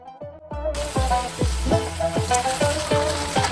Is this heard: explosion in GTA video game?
no